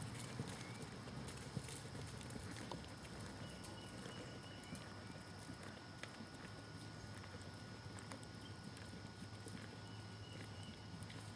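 A horse trots under a rider with steady, rhythmic hoof clip-clops that sound faint and a bit distant over a constant low background hum, and no voices are heard.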